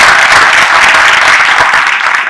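Sustained audience applause at a bookstore conversation event, a dense, loud wash of many hands clapping that fills the whole stretch without pause.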